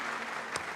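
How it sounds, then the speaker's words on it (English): Audience applause for the panelists at a large annual banking conference, a steady, dense wash of many hands clapping throughout, with one brief sharper clap standing out near the end. "A huge round of applause for our panelists"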